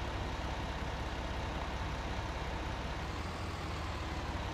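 A tractor engine runs steadily with a low, heavy rumble, close and continuous, with no talk over it.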